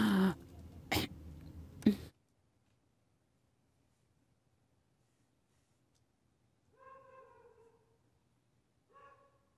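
An ill older woman coughing in a dubbed drama, a few harsh coughs in quick succession, then quiet, followed by faint soft throat sounds later on.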